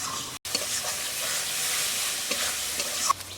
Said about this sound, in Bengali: মশলাটা খুব সুন্দর করে কষে নেব, যতক্ষণ না তেল ছাড়বে কষতে হবে।